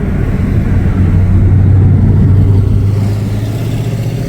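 A Lotus sports car engine drones loud and close as it passes on a street, a steady low rumble that swells in the middle and eases off toward the end, with no voices.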